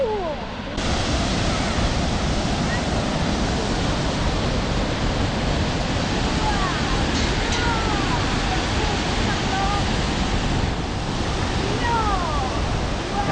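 Rushing water pours down steadily at the Indian Mound waterfall near Clifton Mill, a dense, continuous roar with faint voices talking in the background.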